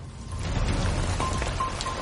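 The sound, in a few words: rain falling in Vancouver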